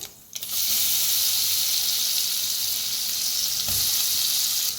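A ground spice paste with mustard seeds, cumin and asafoetida fries in a hot pan, giving a loud, steady close sizzle that starts abruptly and continues unbroken.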